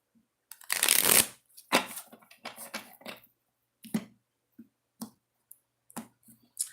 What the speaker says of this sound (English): got to shuffle the deck